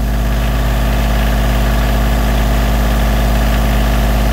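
A Kioti CK2610 compact tractor engine runs at a constant 2200 RPM, a loud, dense, even drone with a strong low rumble and steady mechanical vibration, close and unbroken throughout.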